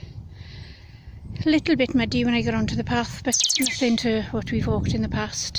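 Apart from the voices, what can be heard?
phone notification sound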